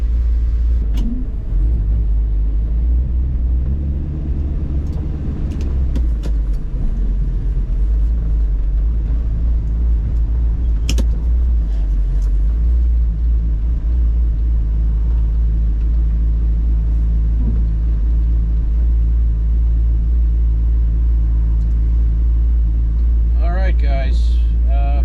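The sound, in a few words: Chevelle car engine rumbling during a drive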